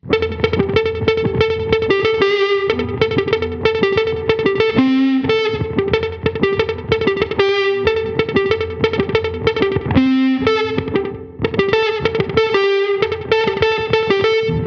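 Electric guitar played through a Dophix Medici Dual Fuzz pedal with delay added, a steady stream of fuzzy picked notes and occasional sustained tones, loud and up front throughout.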